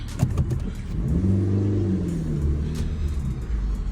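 A used car bought cheaply at auction idles and revs as it is put into reverse, a steady close engine rumble with a brief rise in pitch, no talking over it.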